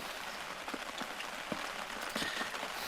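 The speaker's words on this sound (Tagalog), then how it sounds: "Bubuhos yung ulan." Heavy rain pours down on a camping shelter on a mountaintop, a constant wash of patter broken by a few sharper, louder drips and splashes close by.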